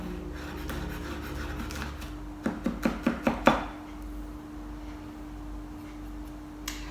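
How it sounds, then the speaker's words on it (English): A kitchen knife finely chopping onions on a cutting board while preparing a vegan, oil-free parsnip pilaf: five quick, crisp chops in a close burst, then a low steady hum. "and then finely chop."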